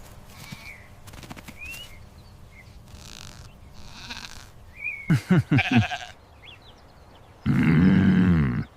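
Cartoon goat bleating in a kids' Eid ul Adha animation, several short wavering bleats with a loud sustained bleat near the end, set among other cartoon sound effects.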